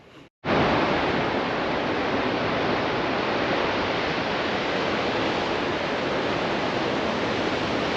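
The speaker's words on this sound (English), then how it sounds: "I reckon if you're a surfer too, them waves look pretty good." Ocean surf at Almonta Beach on the Eyre Peninsula, a steady, loud roar of breaking waves that washes in just after a brief quieter moment and then holds without pause.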